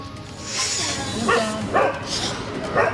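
A rabid dog in Satara gives a few sharp, separate barks spaced about half a second to a second apart, heard amid voices and background noise.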